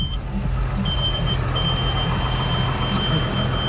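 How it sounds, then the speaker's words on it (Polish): A steady high warning beep from a Case Puma 150 tractor, sounding because the handbrake is not engaged, repeats over the loud rumble of the idling engine. "Pipczy, bo ręcznego nie zaciągnąłem"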